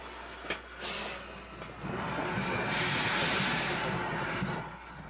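An old Western train rolls forward onto a siding after the switch is thrown, with a continuous rumbling clatter and hiss that grows louder midway, plus a few sharp metallic clanks.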